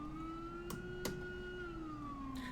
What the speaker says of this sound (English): when I turned it off, the siren stayed on because it didn't register that keystroke.